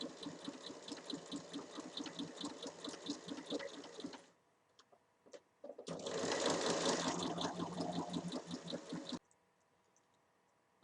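A sewing machine stitches a fabric seam 1 cm in along the full height of a simple dress. It runs in rapid rhythmic bursts: a long steady run, a short pause, then a second louder run that stops abruptly. No talking.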